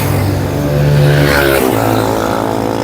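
Motor vehicles race past along the road at the Lalon Shah Bridge, a loud continuous engine roar that rises and shifts in pitch as they speed by close to the listener.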